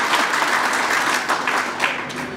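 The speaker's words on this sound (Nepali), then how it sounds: "अघिभन्दा ठुलो ताली बजेन नि" Sustained audience clapping at a political rally, a full, dense roar of many hands that swells slightly in places and carries on throughout, with no one speaking over it.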